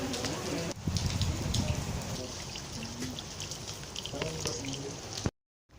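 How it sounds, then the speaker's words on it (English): Rain falls during a hike at Hyrax Hill in Nakuru, a steady close patter of drops on surfaces with scattered louder splashes. The sound cuts out abruptly near the end. "Weather has changed and it's now raining"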